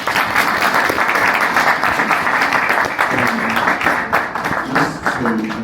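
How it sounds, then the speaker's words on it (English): Audience applauding panel speakers at a modelling industry panel talk, a dense, steady round of clapping from a crowd that holds loud throughout with slight swells near the end. "Let's give these guys a round of applause, please."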